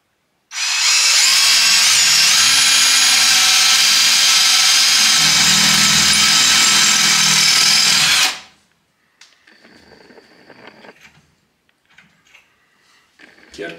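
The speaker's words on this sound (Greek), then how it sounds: "Και αρκετά εύκολα στα 8 χιλιοστά τρυπάνι. Βέβαια είναι τσιμέντο, δεν είναι πέτρα" A Lux A-BS-20 cordless impact drill bores into cement with an 8 mm bit, a loud, close, steady hammering whine for about eight seconds that stops abruptly, followed by quieter scraping and handling noises.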